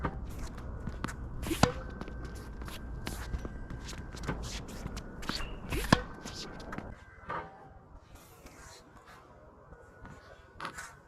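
Tennis footwork drills on a court, quick scuffing crossover and shuffle steps with sharp shoe squeaks and taps in an irregular rhythm, fairly close, with a little background noise.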